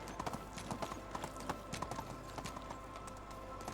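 Horse hooves clip-clop in a steady, quick rhythm while riding in the Medieval Dynasty video game, soft and close over a low background hum.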